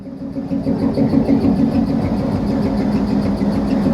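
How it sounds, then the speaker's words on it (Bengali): A departing train with its locomotive engine rumbles steadily and loudly nearby, a continuous low droning roar with rhythmic clatter and no talk over it. "তো এই ট্রেনটাও ছেড়ে দিয়েছে আর এই হচ্ছে ইঞ্জিন"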